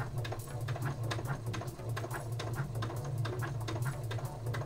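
A Uten 2685A computerised sewing machine running a stitch with automatic back-stitch reversing, producing a steady fast rhythmic whir and needle patter at close range throughout, with no talk.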